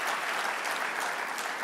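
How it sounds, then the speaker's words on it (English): Steady applause from an awards ceremony audience at the XCEL Awards, a dense, even wash of clapping throughout with no break. "please give yourselves a round of applause one more time"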